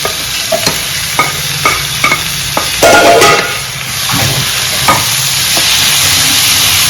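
Three chopped tomatoes sautéing in a pan for a fish pollichathu gravy, a loud close sizzle with repeated spoon scrapes and clacks, then a denser steady frying hiss, with no voices.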